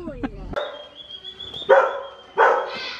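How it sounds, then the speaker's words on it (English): A dog barks indoors at a house, loud sharp barks in a short burst with whimpering tones, mixed with people talking nearby. "There's a dog barking."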